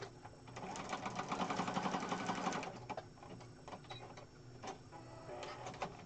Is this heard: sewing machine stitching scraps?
yes